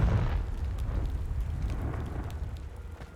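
Heavy rumbling blast from a Confringo spell in Hogwarts Legacy, loud at the onset and then decaying into a long crackling, debris-like roar.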